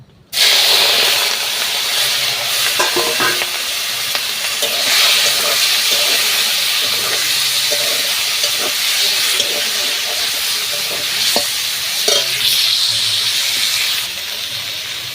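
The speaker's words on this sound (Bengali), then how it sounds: "এবারে চিংড়িগুলো ভেজে নেব।" Shrimp fry in hot oil in a pan for a potol and shrimp curry, giving a loud, continuous, spitting hiss. It starts abruptly after a brief quiet moment and holds steady throughout.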